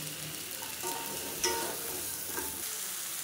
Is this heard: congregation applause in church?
no